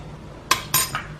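Eggs, sugar and vanilla mixed in a bowl for an apple cinnamon cake give two or three short clinking scrapes of utensil against the bowl, close and fairly quiet.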